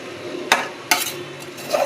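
Biryani being stirred in a cooking pot gives a few quick, close scraping strokes of a spoon against the metal over a soft background sizzle, with no voices.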